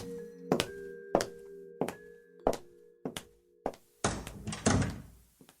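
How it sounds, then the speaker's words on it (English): A door closes repeatedly with sharp click-clack thunks, about seven evenly spaced knocks of a latch and frame, followed by a louder cluster of rattling slams at the end, with quiet gaps between each hit. "Click-clack of the door sticks in my ears for hours"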